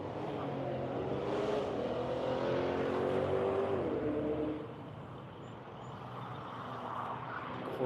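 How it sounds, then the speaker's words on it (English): A Corvette race car accelerates on a wet track with a drying line, its engine note rising loudly for several seconds before dropping away into a quieter, more distant drone. "Let's see what the Corvette's got."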